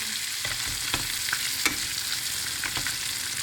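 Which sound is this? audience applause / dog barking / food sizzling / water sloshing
food sizzling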